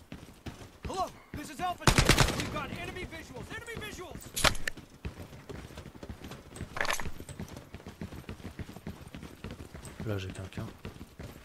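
Gunfire bursts in a Lost Light firefight, a few loud sharp reports standing out amid ongoing game sounds and footsteps, with players talking over much of it.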